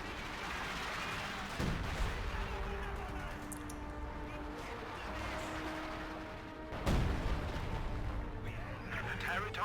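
Artillery barrage in the Company of Heroes 2 video game: two heavy, booming shell impacts a few seconds apart over a low rumbling battlefield, with casters talking throughout.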